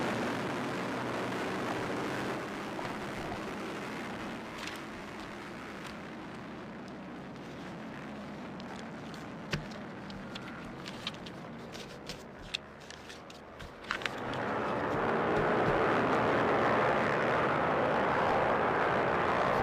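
Racing motorcycles of the 301-400cc pro-stock expert class pull away together at the start of a formation lap, a dense steady engine roar that rises sharply into a louder, fuller wash of revving machines near the end.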